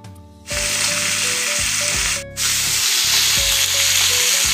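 Marinated fish sizzles and crackles as it is laid into hot oil, a loud dense frying hiss that starts abruptly, briefly drops out, then resumes steadily, with clanking utensil taps underneath.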